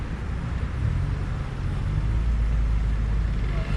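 Steady broadband roadway rumble of passing cars and trucks near a field of grazing cows, continuous and fairly loud throughout with no distinct gaps between vehicles.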